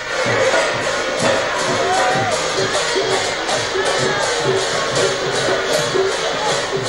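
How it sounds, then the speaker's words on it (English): A huge crowd gathers to greet PM Modi at a temple, a loud, continuous roar of voices and cheering with rhythmic thumps running beneath. "Huge crowds greeted him."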